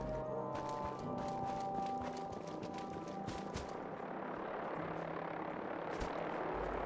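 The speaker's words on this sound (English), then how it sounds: "I can hear a helicopter." Helicopter in Fallout 4 flying overhead, a steady broadband rotor and engine wash with rapid blade chop, loud and continuous throughout with faint game sounds underneath.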